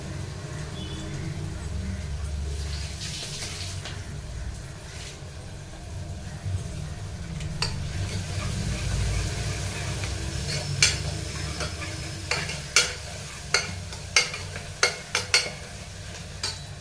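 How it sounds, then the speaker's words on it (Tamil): Onions and curry leaves sauté in hot oil for a cluster bean kuzhambu, a soft steady sizzle with scraping stirs, then a run of sharp, regular utensil clinks against the pan toward the end. "வெங்காயம் நல்லா வதங்கட்டும் எண்ணெயில் நம்ம கருவேப்பிலை அலசி போட்டுக்கணும்"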